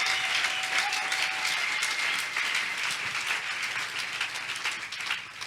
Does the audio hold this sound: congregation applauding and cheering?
yes